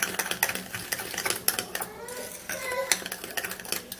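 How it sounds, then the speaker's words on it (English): A spoon stirs a foamy skincare mixture in a bowl, making quick, uneven clicks and soft scraping against the sides. The sound is fairly close and runs steadily throughout, with no voices. "you stir it until the foaminess has gone down"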